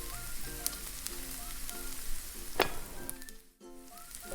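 French toast sizzling in canola oil in a pan, a steady close fry with faint background music tones and a brief scrape partway through, no talking.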